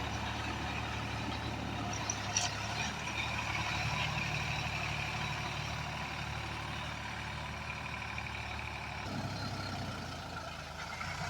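A tractor ploughing a field with the plough lowered and its tyres grinding in the soil gives a steady, loud engine drone throughout, with a slight shift in tone near the end.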